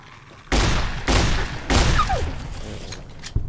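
Riot shotgun blasts in Fallout New Vegas, Old World Blues DLC: three loud, booming shots about half a second apart, each leaving a rumbling tail. A whistling sweep follows the third, then a short thump near the end.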